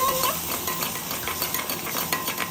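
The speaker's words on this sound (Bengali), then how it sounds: "এদিকে মশলাটা দিয়ে দিলাম, নাড়াচাড়া করছি" Spices being stirred in a hot frying pan, a steady close sizzle broken by scraping stirs, with no voices.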